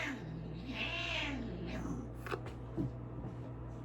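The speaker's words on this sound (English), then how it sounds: "These cats, I don't know when they're fighting or when they're playing" House cats meow and yowl at each other, either fighting or playing, with drawn-out rising and falling cries followed by shorter calls over a steady indoor hum.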